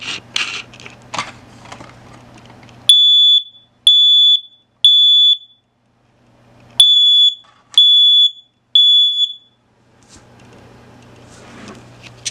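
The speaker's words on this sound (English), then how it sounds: "let's try out the smoke detector" Six loud, piercing electronic beeps from a smoke alarm, sounding in two groups of three with short pauses between, set against a low background hum.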